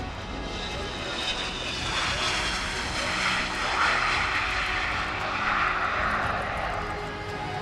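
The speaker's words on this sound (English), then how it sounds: "a number of VIP, transport and support aircraft seen here arriving and departing throughout the day" Military transport and support aircraft at the Royal International Air Tattoo airshow, a loud sustained engine roar that swells and fades as a plane passes, with a broad rushing drone.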